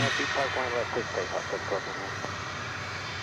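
A jet airliner rolls and roars at DFW Airport, a steady broad engine rumble that stays loud throughout, with a person talking over it during the first two seconds.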